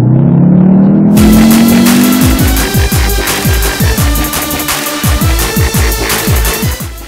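An Audi TT-S Roadster with a 2-liter TFSI engine and S-tronic gearbox revs loudly: one rising whine, then a fast series of sharp rev blips and crackling pops, close and alone with no talk.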